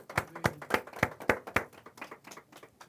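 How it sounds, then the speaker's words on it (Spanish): A church congregation claps during a sermon, a fairly quick run of sharp, rhythmic hand claps that thin out and soften toward the end. "Entonces denle un aplauso al Eterno."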